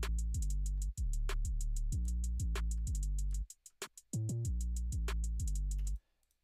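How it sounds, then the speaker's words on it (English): FL Studio beat with a hi-hat two-step pattern and a snare carrying a couple of faster notes in the middle, layered over heavy booming bass hits, punchy and rhythmic, dropping out briefly near the end with no talking. "just your standard hi-hat, two-step pattern, and snare with a couple faster notes in the middle"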